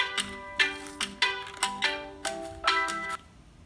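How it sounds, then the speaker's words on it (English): A Nexus 6P phone triggered through Google Home rings with a close, repeating melodic tone in short bursts, sounding alone without talk. "All right, your phone should be ringing now."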